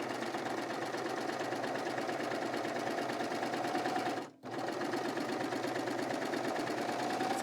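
A serger stitching a basic overlock seam along fabric edge, a steady fast mechanical whir running continuously and fairly close, with one brief pause near the end before it resumes; no talking.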